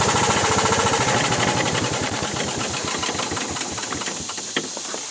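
A Club Car Carryall utility vehicle engine with a faulty governor linkage runs loud and close, its rapid mechanical chugging rising and falling as the revs surge up and slow down.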